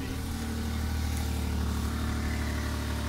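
An old minivan engine runs steadily after a jump start following months of sitting, a loud, continuous low rumble that idles roughly with no pauses and no talking.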